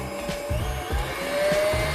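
An electric mixer beating brookie dough in a bowl, a steady close motor whir with a rhythmic pulsing beneath it, continuous and fairly loud throughout.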